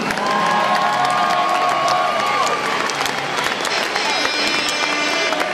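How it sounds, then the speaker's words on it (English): A large crowd applauds and cheers at a robotics competition's alliance selection event, a loud, steady wash of clapping and whoops that stays full throughout, with a voice over a loudspeaker briefly audible early on. "How about a round of applause for our top 18?"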